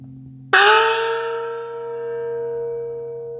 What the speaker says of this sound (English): and my personal favorite, the Chinese opera gong.